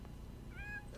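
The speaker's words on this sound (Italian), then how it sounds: "Porca miseria, sti gatti!" A cat meows once in The Sims 4, a short rising-falling call that stands out faintly over a steady low hum of game background noise.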